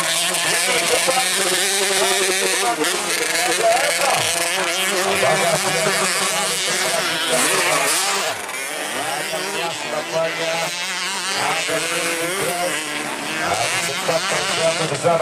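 Motorcycles in a beginners' free-for-all class for young riders race on a grasstrack, their engines buzzing loudly and continuously throughout, with a race commentator talking over the noise.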